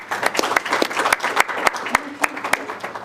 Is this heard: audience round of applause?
yes